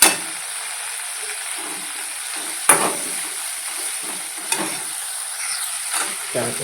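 Vegetables sizzling in oil after salt is added, a soft continuous fry hiss broken by a few sharp stirring scrapes and clatters, close up with no talk.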